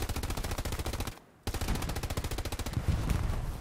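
Rapid automatic gunfire in the World War II shooter Hell Let Loose: a loud, close, evenly pulsing burst, a brief silent pause, then another sustained burst, with no talking.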